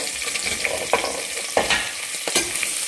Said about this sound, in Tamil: அப்புறம் கட் பண்ணியிருக்கோம் இல்லையா, அந்த வெங்காயத்தை ஆட் பண்ணிக்கோங்க.